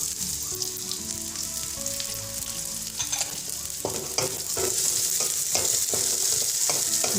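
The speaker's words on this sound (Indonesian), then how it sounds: "ditumis sampai bawang layu dan harum" Shallots stir-fry in a pan for an Indonesian anchovy and green chili dish: a loud, continuous sizzle with repeated stirring and scraping, and no voices.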